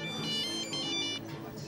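A mobile phone ringtone plays a short, steady electronic melody at moderate volume in a quiet room, heard alone without talk.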